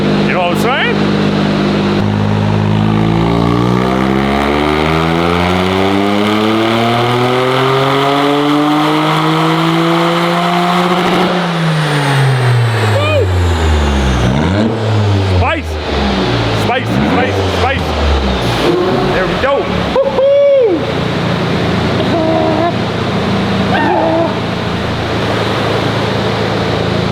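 A Toyota GR Corolla engine running on E85 fuel revs up and down repeatedly, a loud close rising-and-falling drone with sharp throttle blips, while people talk over it.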